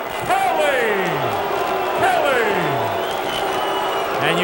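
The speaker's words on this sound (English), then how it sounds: "you can hear the crowd reaction" Boxing arena crowd roaring and cheering right after a fourth-round TKO win, a loud continuous wash of voices with rising shouts and whoops throughout.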